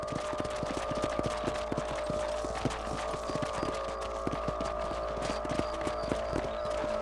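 Hooves clip-clop in a steady, even rhythm as a horse is ridden in Red Dead Redemption on PC, the hoofbeats fairly close over a low hum, with no voices.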